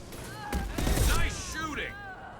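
Sniper rifle shots in a video game, a few sharp cracks close together amid game voices and battle noise.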